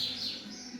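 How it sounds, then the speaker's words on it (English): Faint bird chirps come from outside a holiday park workshop, a few short high tweets set against quiet background. "as you can hear all the birds in the background."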